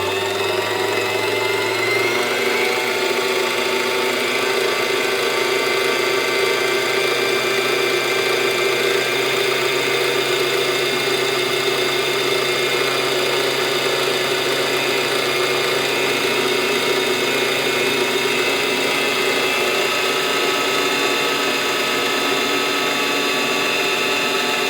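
A sewing machine's motor winds thread onto a bobbin with a steady, continuous whir that holds an even pitch throughout, close and fairly loud, with no talking.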